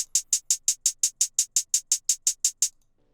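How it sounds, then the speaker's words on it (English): A plain two-step hi-hat pattern from a phonk beat ticks alone in fourteen even, crisp hits with no rolls, then stops. "a 2-step hi-hat pattern"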